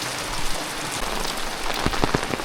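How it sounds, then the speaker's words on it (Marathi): Heavy rain falling in a Konkan village, a dense continuous patter on surfaces with a few sharper drips near the end, close and without talk. "पाऊस पाऊस पाऊस."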